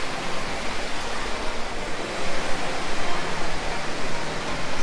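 Rushing water from waterfalls and small pools at Plitvice Lakes in Croatia fills the air as a broad, steady roar, close and loud, swelling slightly midway, with no voices.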